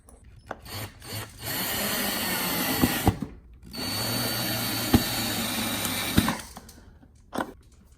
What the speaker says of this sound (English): give me the drill again.